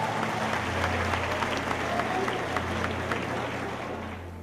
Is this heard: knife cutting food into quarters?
no